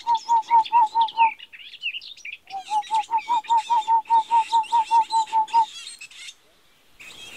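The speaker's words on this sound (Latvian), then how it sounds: "Bet tur atkal mēs varam dzirdēt pikšainu apogu." A boreal owl gives two long runs of evenly spaced, mellow hooting notes, clear and fairly close, with other small birds chirping faintly behind.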